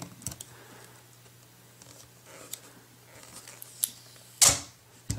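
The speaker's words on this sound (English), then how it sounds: "I have to peel this off to unseal it." Cardboard seal tab peeled off an Apple iPod Touch 4th generation (2010) retail box, a short tearing rip near the end after faint scattered handling ticks, close and fairly quiet.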